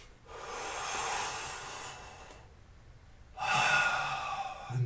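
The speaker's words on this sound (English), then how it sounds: "And one more deep breath in." A deep inhale during a yoga breathing exercise, a long airy breath in lasting about two seconds, followed after a pause by a second strong breath, close and clear with no talking.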